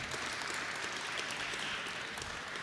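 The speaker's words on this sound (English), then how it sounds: "Give him a round of applause" Crowd applause at the Jamaica 60 launch in Canada, a dense, steady wash of clapping from a roomful of people, moderately loud throughout.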